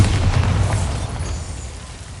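A loud, broad booming blast from the Bombarda explosion spell in a Harry Potter video game, with a heavy low rumble that holds steady and slowly fades over about two seconds.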